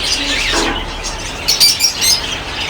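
Budgerigars chirp and tweet in quick, high bursts close by at a pet bird and fish market, over a busy background murmur.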